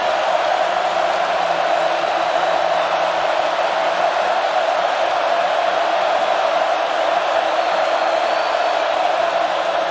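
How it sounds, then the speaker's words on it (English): At the Swamp, a Florida football stadium crowd roars through a third and long against Kentucky, a dense sustained wall of noise that is loud and unbroken throughout. "listen to this crowd on a 3rd and long."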